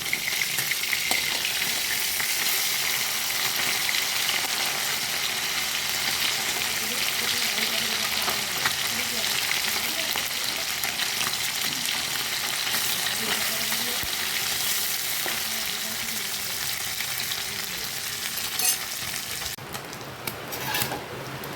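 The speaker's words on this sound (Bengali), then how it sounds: "আমাদের মাছগুলো ভাজা হয়ে গেছে," Parshe fish pieces fry in hot oil with a continuous, even crackling hiss for a long stretch while heavy rain falls outside, the sizzle easing slightly near the end.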